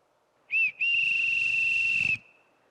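A stage play of The Sound of Music has a whistle blown to call people: one short blast, a brief gap, then a long sustained shrill tone lasting over a second, loud and clear with no talking.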